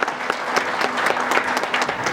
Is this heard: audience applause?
yes